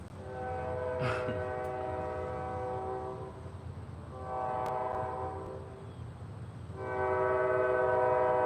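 A train passes nearby, its horn sounding in long, loud blasts three times over a steady low rumble of rolling wheels and cars.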